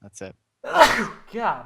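A person sneezes loudly and sharply, with a short gasping intake just before it. Speech follows immediately.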